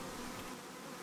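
Honey bees on a hive frame, nurse bees tending the brood, give off a steady close buzzing hum that holds evenly and quietly throughout, with no voices.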